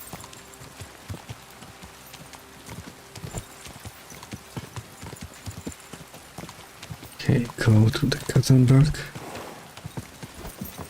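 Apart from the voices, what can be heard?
horse hooves galloping, from a video game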